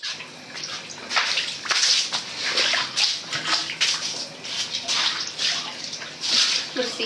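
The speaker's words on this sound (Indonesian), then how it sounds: "Ntar ya aku siram dulu, bersihin." Water is poured to rinse and clean, giving a continuous splashing gush that swells and dips in loudness with short bursts of sloshing, close by and fairly loud.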